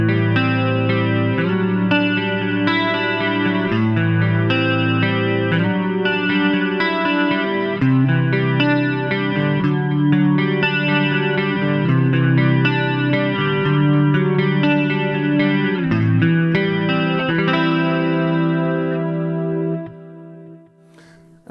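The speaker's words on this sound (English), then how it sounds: "that's basically the jazz chorus tone that I used" Electric guitar through a Line 6 Helix set to a jazz chorus tone with a simple low-mix delay, playing a sustained, shimmering chordal passage for about twenty seconds before fading at the end; no talking.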